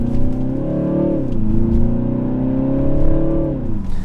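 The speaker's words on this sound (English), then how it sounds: "from a BMW, and it just has that deep rumble" A BMW engine gives a deep, loud exhaust rumble at low revs, holding a steady throbbing drone with a slight dip and rise in pitch as the throttle shifts, close and alone.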